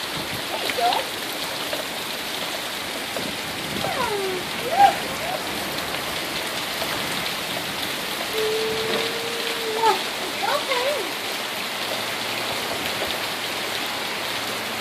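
Heavy rain pours down steadily outdoors in a dense, continuous hiss, with faint chirps and a few soft voices in the distance beneath the downpour.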